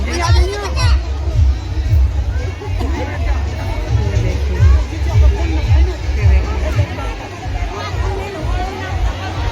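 A dense crowd at a busy Lakshmi temple in Belwan fills the air with loud, continuous babble of many overlapping voices, with low rumbling thumps underneath.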